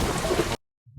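Rain falls as a dense, loud hiss in a film scene, then cuts off abruptly into silence before a low rumble begins.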